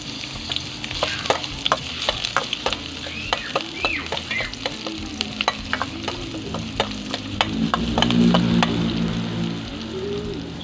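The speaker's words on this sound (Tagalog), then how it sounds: "mag-isa muna tayong bawang at sibuyas" Garlic and onion sautéing in a pan, a close steady sizzle with frequent sharp clicks of a utensil stirring and scraping, growing louder near the end, no talking.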